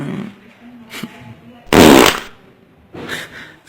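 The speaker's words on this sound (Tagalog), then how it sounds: "Lalakas lamang ang iyong utot para ma iyong madinig." A loud, close fart bursts out for about half a second between stretches of quiet talk in a Filipino comedy bit, followed by further speech.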